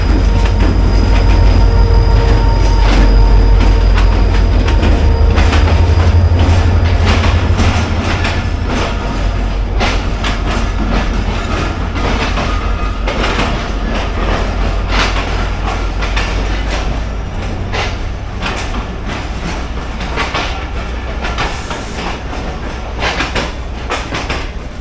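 A Pakistani passenger train rumbles and clatters past at close range, with rolling wheel noise, metallic squeals and rhythmic rail clacks. The loud low rumble is strongest early and eases slightly while the train runs on.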